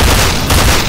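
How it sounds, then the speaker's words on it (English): A loud, booming sniper rifle report from a sci-fi first-person shooter game, a heavy blast whose sustained roar fills the whole brief moment, with no voices over it. "Yeah, that was a sniper."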